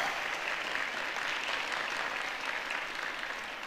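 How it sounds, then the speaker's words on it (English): Graduation ceremony audience at a college applauding together, a dense, sustained wash of many hands clapping at an even level throughout, fairly distant with no one speaking over it. "Please, can you just clap for yourself?"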